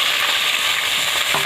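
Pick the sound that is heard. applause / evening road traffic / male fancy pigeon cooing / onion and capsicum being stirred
onion and capsicum being stirred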